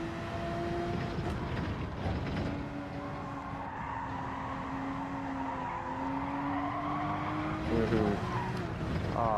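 In a racing video game, a car's tires squeal as it brakes into a corner. Sustained, wavering squeals run over a constant engine drone and rise again toward the end.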